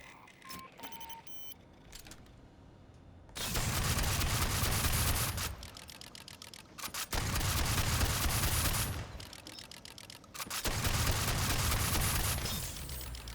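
Boomstick shotgun in Aliens: Fireteam Elite fired in three loud sustained bursts, each emptying the magazine, with short clicking reload gaps in between and no talk.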